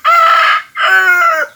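A noisy backyard rooster lets out a loud, close cock-a-doodle-doo crow in two drawn-out, strongly pitched phrases, heard alone with no other sound.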